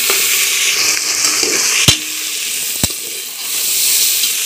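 Onions sautéing for mushroom biryani, a close, steady sizzle punctuated by two sharp knocks of a spoon against the pan as they are stirred.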